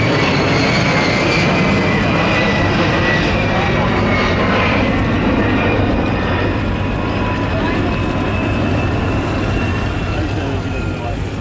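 A-10 jet aircraft at EAA AirVenture give off a loud, broad roar that slowly fades as they pass, with a thin whine over the rushing noise. A voice is heard faintly.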